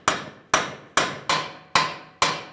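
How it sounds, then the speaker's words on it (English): A hammer drives a cold chisel into the pinch area of a front strut on a 2000-2007 Ford Taurus, six sharp metallic blows at a steady rhythm, each ringing briefly before the next, close and loud. "So I'm using a chisel, cold chisel in between the pinch area."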